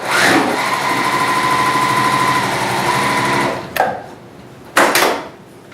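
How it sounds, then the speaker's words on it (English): A sewing machine stitches fabric along a marked line in a patchwork project, a loud, close, rapid mechanical whir running for about three and a half seconds, then two short bursts of stitching. "You open it up, come to your machine and sew right on that line."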